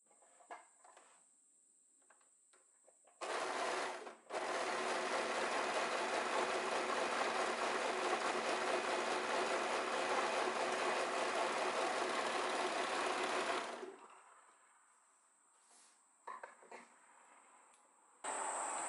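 An overlocker sewing machine serges the long curved edge of blouse fabric, giving a loud, steady, close mechanical whirr that starts abruptly, pauses briefly, then runs continuously for about ten seconds before stopping.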